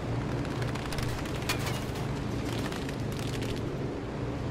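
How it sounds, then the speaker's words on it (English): Gunfire from a tail gunner in the Battlefield V beta, heard as a dense, loud, continuous barrage of booms and rattling shots with no pause. "he's tail gunner shooting us"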